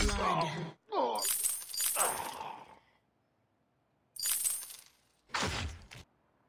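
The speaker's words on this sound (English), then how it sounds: "enemy turret destroyed." An enemy turret in the game Vainglory being destroyed, heard as sharp shattering, crumbling bursts, several separate loud crashes with quiet gaps between them.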